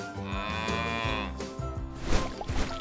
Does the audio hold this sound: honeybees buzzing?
no